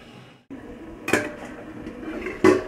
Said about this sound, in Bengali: তো এটা আমি এবার ঢেকে দেব, ঢেকে ঢেকে রান্না করব।